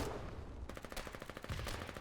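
Rapid gunfire from the online war game Foxhole, a burst of sharp repeated shots starting partway in and continuing in an uneven rattling rhythm over battle noise, fairly close.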